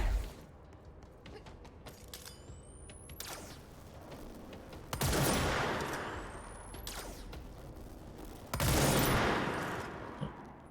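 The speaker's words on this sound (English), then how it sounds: "The gun's gonna shoot itself." Gunfire from a gun in the video game Control arrives as a few sharp, loud blasts spaced several seconds apart, each with a ringing tail, over a low ambient rumble with little talk.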